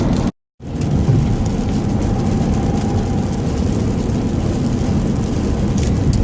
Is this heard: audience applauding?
no